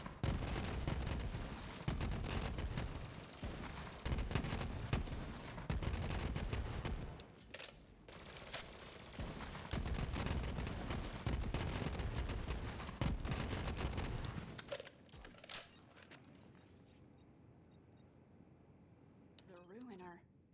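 Weapon gunfire in Borderlands 3, a loud sustained barrage of rapid shots and blasts lasting about fifteen seconds with brief gaps, then dropping to quieter game sounds.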